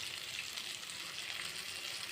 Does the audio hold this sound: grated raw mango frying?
yes